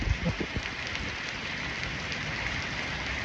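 Steady rain falls continuously, a dense even hiss close by with a few louder patters early on, no voices.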